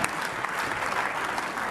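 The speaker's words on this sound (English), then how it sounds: "That's the last time you are applauding here." A brief burst of applause rises in the European Parliament chamber, many hands clapping at once at moderate volume, steady and dense with no voices on top.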